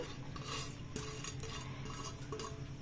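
Maida batter with onions, curry leaves, green chillies and salt is mixed by hand in a metal bowl, giving steady clinks, scrapes and wet stirring sounds close by, with no talking.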